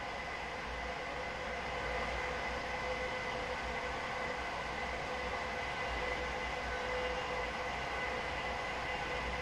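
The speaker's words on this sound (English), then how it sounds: "Sort of hear that whirring noise on the rails as well when trains get to higher speed." A Class 745 FLIRT electric multiple unit in Train Simulator Classic runs along the rails at speed, giving a continuous, steady whirring rumble with a faint tonal hum, unbroken and free of speech.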